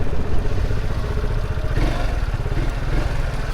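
A scooter engine putters and rattles steadily up close, a continuous buzzing drone with a slight change in tone partway through.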